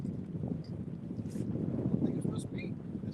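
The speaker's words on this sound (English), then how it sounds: "Windy." Gusty wind buffets the microphone on the Ohio River, a steady low rumble filling the clip with faint boat and water noise beneath.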